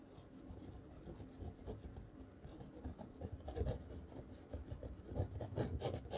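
A paintbrush scrubs sand-colored paint mixed from dark sienna and Van Dyke brown onto a canvas in a mountain landscape painting, making a soft, continuous, close scratchy rasp with quick repeated strokes.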